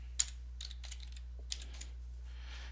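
Quick, light keystrokes clatter on a computer keyboard in irregular bursts, with a few sharper taps standing out, all close and fairly quiet over a steady low hum.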